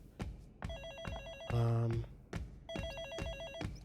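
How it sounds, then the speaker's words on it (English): An in-game telephone rings in the video game Hi-Fi Rush, repeating electronic trill bursts alongside rhythmic thumping music beats, with a voice briefly speaking over it. "This is new. Pick it up? Eh. Last time I answered a phone, you got real mad at me, Peppermint."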